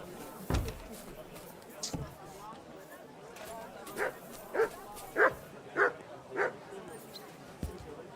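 A dog barks in the video game Kingdom Come: Deliverance II, giving about five evenly spaced, moderately loud woofs in a row after a few scattered sounds, with a player's voice talking at times.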